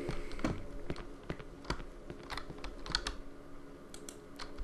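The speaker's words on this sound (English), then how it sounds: "I need to type in that code before I forget." A computer keyboard is typed on at close range to enter a code in the horror game Cry of Fear, a run of irregular key clicks and taps in uneven bursts with short pauses.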